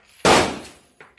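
A gun fires once at an indoor gun range: a single sharp, loud crack close by that rings out and fades, followed by a faint knock.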